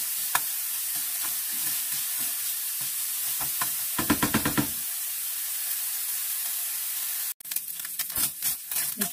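Ground chicken browning in a hot pan gives a steady close sizzle and frying hiss, with intermittent scraping stirs and a brief louder burst of crackling partway through before the sizzle resumes.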